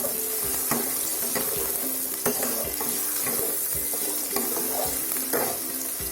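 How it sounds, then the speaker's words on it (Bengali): Potatoes fry in oil over a lowered gas flame, a continuous close sizzle broken by regular scraping strokes of a spatula stirring the pan. "গ্যাসটা একটু কমিয়ে দিয়ে আলুগুলোকে ভেজে নেব।"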